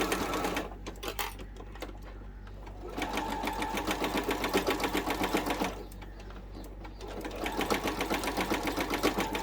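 A sewing machine stitches a fabric wallet with card slots, its needle running in two steady bursts of rapid, even chatter separated by a short pause, close and alone with no talking.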